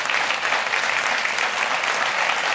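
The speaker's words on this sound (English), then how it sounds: "And everyone starts clapping." A studio audience at a 1976 late-night comedy sketch show claps steadily, a dense, even wash of applause held at the same level throughout with no voices above it.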